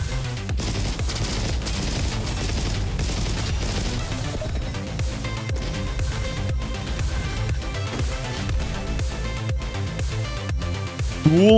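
Relentless video-game gunfire in RoboQuest, sawed-off shotguns blasting amid rapid bursts, crashes and booms, loud and dense throughout with barely a pause.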